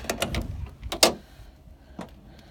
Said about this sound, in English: Let's open up the tailgate.